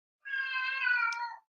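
A single clear cat meow, close and alone, drawn out for just over a second with a slight wavering pitch before it fades.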